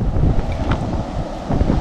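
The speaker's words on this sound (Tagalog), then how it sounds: "Hangin ah, mahangin." Strong wind at sea during fishing on rough water, a steady loud roar buffeting the microphone with low rumbling gusts and faint wave wash throughout, no voices.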